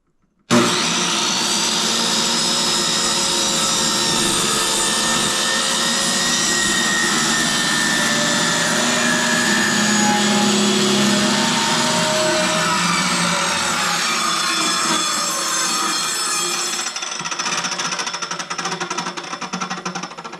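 A power saw plunge-cuts through a board during a table saw build, a loud, steady high-pitched whine and rasp that runs continuously for the whole stretch before easing off near the end.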